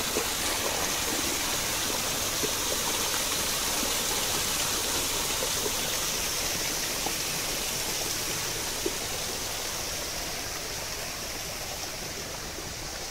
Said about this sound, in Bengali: দূর থেকে ঝর্ণার শব্দ পাওয়া যায়